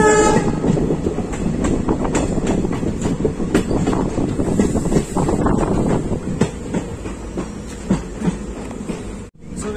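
Loud train rumbling along winding, curving tracks in Assam with rhythmic clickety-clack and a brief horn, running steadily throughout as it nears Dekargaon station.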